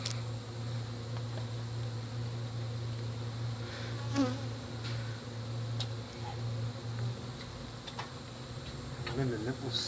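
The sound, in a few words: bees buzzing during night-time hive removal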